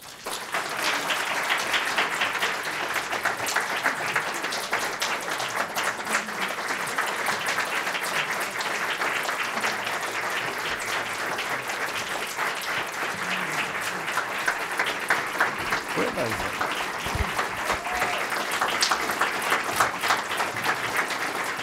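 Long, steady applause from a conference audience welcoming former Polish president Lech Walesa, a dense even wash of many hands clapping that holds at constant strength for over twenty seconds with no voices on top.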